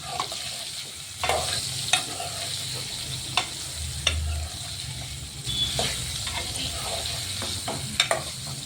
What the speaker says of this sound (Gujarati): ભીંડાને આપણે થોડીક વાર પકાવશું તેલમાં